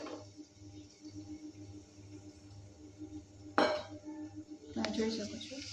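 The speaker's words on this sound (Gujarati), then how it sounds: "તો હવે આપણે જે ટોમેટો ચોપ કર્યા હતા એ નાખી દઈશું." Chopped cherry tomatoes tipped into a pan of hot oil with asafoetida, a quiet bright clink and scrape against the pan followed by a soft sizzle, over a low steady hum.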